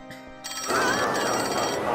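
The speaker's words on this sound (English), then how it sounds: "that phone rung by itself!" A telephone rings in the Grabbed by the Ghoulies video game, a bright electronic trill starting abruptly and continuing steadily and clearly, with game sounds beneath.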